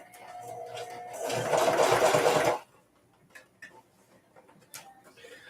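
A sewing machine whirs in a fast, busy burst for about a second and a half while sewing a leather hat, then stops, leaving faint clicks and small handling noises.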